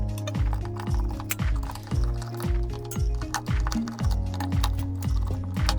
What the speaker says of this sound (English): First, unscrew the fixing screw.